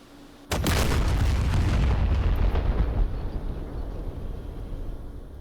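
A bomb dropped from an F-15E Strike Eagle in DCS World detonates on impact, a sudden heavy boom after a quiet moment, then a long, rumbling roll that slowly fades.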